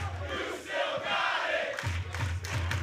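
A wrestling arena crowd in Chicago roars and cheers at a distance, a broad wash of voices that swells and falls, with a commentator talking over it.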